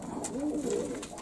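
A puffed-up spotted pigeon gives a soft, close, rolling coo that swells and falls in one short phrase over a quiet background.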